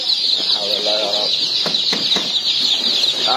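Chickens at a poultry market in Egypt cluck in short bursts up close, over a constant high-pitched background hum and people talking nearby.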